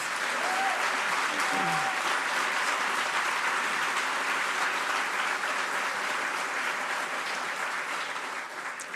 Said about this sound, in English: So let's give our entire team another round of applause